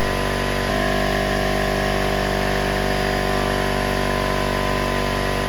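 Ridgid air compressor running steadily as its tank pressure builds, a loud continuous motor-and-pump drone with a throbbing pulse, close by and alone.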